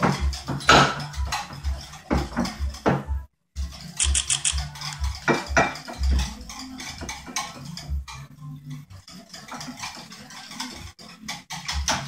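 Yogurt is whisked by hand in a bowl, producing rapid, irregular clinks and taps of the whisk against the sides, close and fairly loud, with a short pause partway through.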